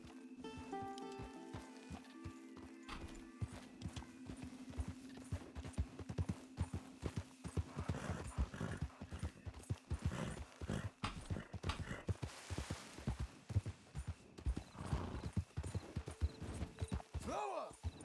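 Horse hooves clip-clop in a steady, uneven rhythm over a long stretch, fairly close, with a low tonal hum early on and other busy background sound mixed throughout.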